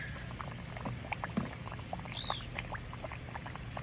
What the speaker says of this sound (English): While it's bubbling, that means it's eating away the buildup.